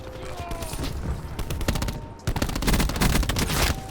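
Saug submachine gun in Black Ops 4 firing rapid, dense bursts of automatic fire, loud and close, with a brief pause before another sustained burst.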